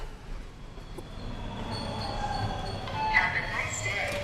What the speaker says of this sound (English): Dive in front of the subway train.